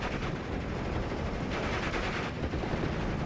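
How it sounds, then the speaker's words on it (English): Dense gunfire in a World War II strategy game as pioneer squads fire on riflemen, a loud continuous crackle of shots with no clear gaps between them. "Pioneer squads are firing upon the riflemen."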